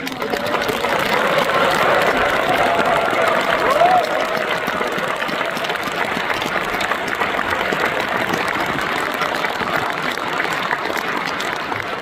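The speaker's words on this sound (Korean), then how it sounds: "우리나라를 대표해서 박수를 한번" Sustained, dense applause from a large audience fills an award ceremony hall at the COEX auditorium during the Yu Gwan-sun Award presentation. The clapping is loud and steady throughout, with no speech over it.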